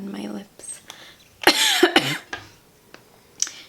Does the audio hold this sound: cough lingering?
yes